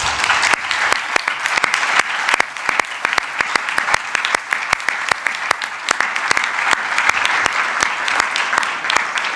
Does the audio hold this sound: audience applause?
yes